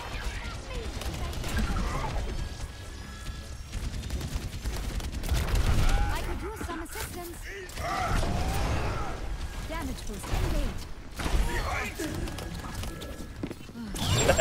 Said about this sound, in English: That was some rapid fire.